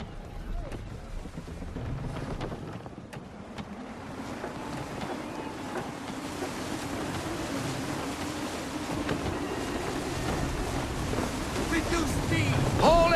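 Wind and waves roll past a sailing ship in the Assassin's Creed 3 video game, a steady rushing wash with gusty noise that builds gradually over several seconds.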